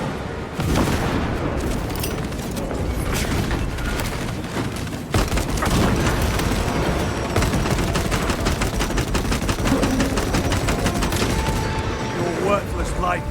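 A crack grenade goes off in Warhammer 40,000: Space Marine II amid constant loud gunfire and blasts, with dense combat noise all the way through and game voices now and then.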